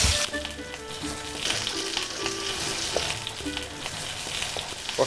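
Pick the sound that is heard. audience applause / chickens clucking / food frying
food frying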